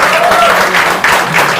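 Loud, dense audience applause at a Hindi film trailer launch, a brief steady burst of many hands clapping close to the microphone with crowd murmur mixed in.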